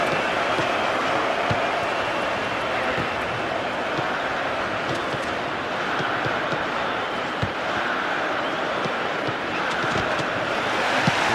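Stadium crowd noise from the football video game Pro Evolution Soccer 2008: a steady, dense roar of spectators that stays loud and unbroken throughout, with no gaps or lulls.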